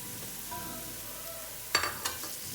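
Dry spices frying with onions in a pan give a soft, steady sizzle, then a brief burst of sharper crackling and clatter near the end, close and with no talk.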